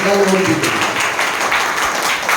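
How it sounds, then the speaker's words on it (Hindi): Applause from an audience at a motivational speech event, a dense, steady wash of clapping that runs through the whole stretch, loud and continuous, with a brief voice at the start. "एक बार जोरदार ताली होना चाहिए"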